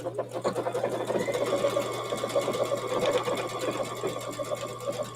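A sewing machine stitching a sideways-motion decorative stitch, with a fast, even mechanical whir and a steady hum running for about five seconds, close and loud.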